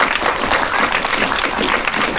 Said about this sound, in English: I'd like to give up a round of applause.